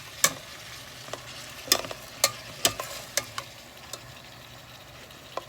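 Bitter gourd (ampalaya) being sautéed in a pan, with sharp clinks and scrapes from stirring at irregular moments over a faint, steady background sizzle.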